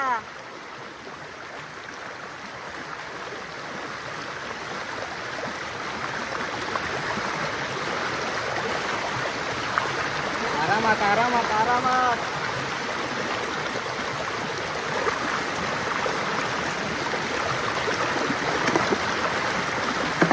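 Steady broadband rush of river water flowing along the Konkan countryside in Maharashtra, continuous and fairly loud throughout, with a person's voice speaking briefly over it.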